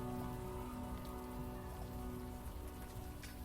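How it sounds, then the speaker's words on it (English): Rain falls steadily in the video game Unavowed, a dense even patter over a low rumbling bed with no talk. "At least the rain is washing away most of the smell."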